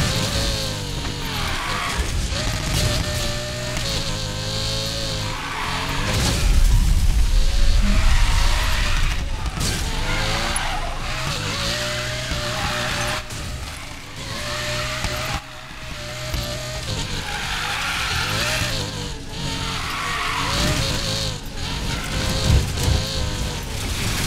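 Car drifting in the Need for Speed Payback arcade racing game, a loud continuous engine roar with repeated gear changes and sliding tire squeal running throughout, swelling and fading as the car powers through turns.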